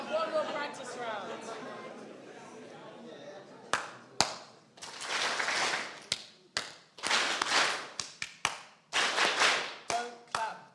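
Hand clapping in a group rhythm game, loose patterns of sharp claps and bursts of applause-like clapping from several people nearby, with people chattering between rounds.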